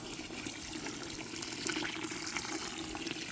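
Water from a garden hose pours over chicken feed in a bucket, a steady, fairly quiet splashing gush that swells slightly partway through, with no voices.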